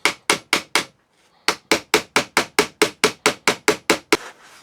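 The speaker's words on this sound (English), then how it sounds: "You're essentially just hammering them flat." Hammer blows flattening a plastic drain pipe: a rapid, even series of sharp close strikes, four quick hits, a short pause, then about fourteen more in steady rhythm.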